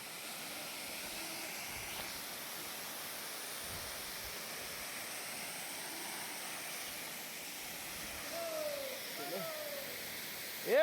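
A village waterfall in Konkan that flows all year makes a steady, broad rushing roar of falling water. It holds at a moderate level throughout, with faint distant sounds near the end.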